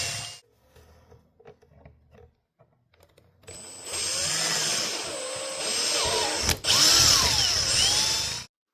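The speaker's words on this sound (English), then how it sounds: "next we'll shoot for drilling the holes at the bottom right here and here" Quiet handling noises, then a power drill whines steadily for several seconds, close and loud, with a brief pause and pitch shifts as it bores mounting holes in an old Delta TP400LS planer.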